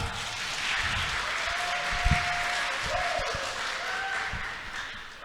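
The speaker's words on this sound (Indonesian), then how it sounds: "Berikan tepuk tangan yang meriah untuk Kang Arfi Rafnialdi, STMBA." Audience at an Indonesian post-election panel forum breaks into applause, a broad steady wash of many hands clapping at moderate distance for several seconds.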